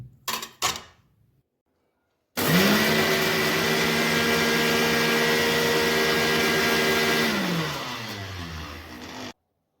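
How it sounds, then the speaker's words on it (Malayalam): A mixer grinder grinds masala spices, starting abruptly after a few short clicks, whirring loud and steady for several seconds, slowing slightly near the end, then cutting off, close up with no talking. "ഇതൊക്കെ ഒന്ന് അരക്കണം"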